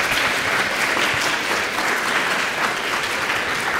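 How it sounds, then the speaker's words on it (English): A lecture audience gives sustained applause, a dense, even wash of many hands clapping at steady volume throughout. "Let's applaud."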